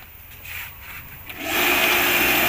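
A new electric sprayer motor whirs quietly at first, then surges into a louder, steady hissing run partway through.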